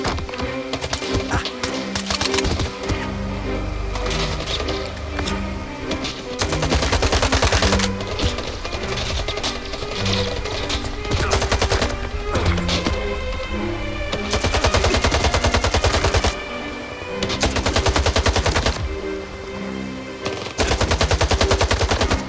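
Stalker 2 firefight against bandits: dense, continuous gunfire with rapid automatic bursts and single shots, loud and close, layered over background music with only brief lulls.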